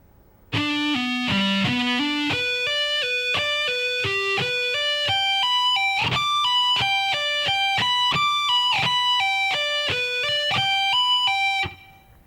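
A distorted electric guitar plays a legato lick slowly, with hammer-ons and pull-offs on the upper strings, each note distinct in a steady run lasting about eleven seconds before cutting off.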